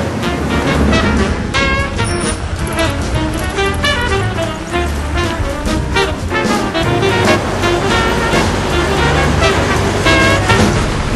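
Busy street traffic fills Times Square with a loud, constant roar of passing cars and buses, layered with a dense city hubbub throughout.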